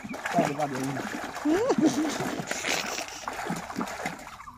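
A young child learning to swim in a village pond splashes and kicks in the water with irregular slaps and churning, while an adult voice keeps talking and coaching close by.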